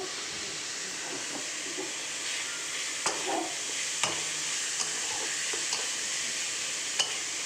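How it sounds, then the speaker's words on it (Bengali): Radish greens fry in a pan with nigella seeds and garlic, giving a continuous sizzling hiss with occasional soft clicks and scrapes of stirring, close and steady throughout. "এবার শাকটা ভালো করে ভাজা ভাজা করে নিয়ে তোমাদেরকে দেখাবো"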